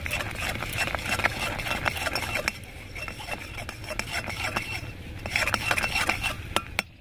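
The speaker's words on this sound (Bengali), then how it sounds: "ভালো করে নাড়াচাড়া করে হোয়াইট সসটা বানিয়ে নেব" A pan of white sauce with a pinch of salt, made for a pizza, is stirred with quick, rhythmic scraping and tapping of a utensil against the metal, with a short quieter pause in the middle and no voices.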